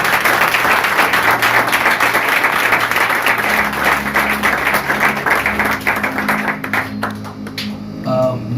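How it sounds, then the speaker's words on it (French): Sustained applause from a church congregation, steady and loud throughout, with a few voices and a sustained tone underneath, tapering slightly near the end. "un bel applaudissement pour ça"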